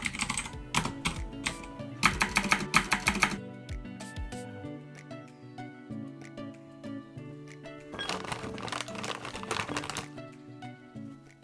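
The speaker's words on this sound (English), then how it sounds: "is it mechanical keyboard?" Close, crisp typing on a mechanical keyboard, with bursts of rapid clacking keystrokes separated by slower scattered presses, heard alone at moderate volume.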